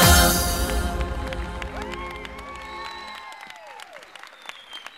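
A concert audience breaks into loud, dense applause at first, then it thins and fades while a sustained musical tone with sliding pitches carries on beneath it.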